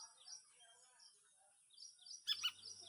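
A baby golden oriole calls in a backyard with soft, faint chirps scattered through the clip, then a brighter, louder burst of calls near the end.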